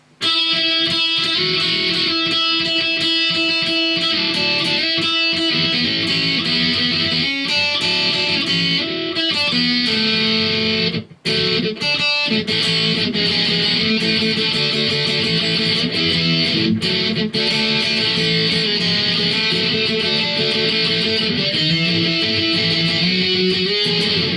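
An electric guitar plays a continuous melodic lead line over a steady backing, with one brief break partway through.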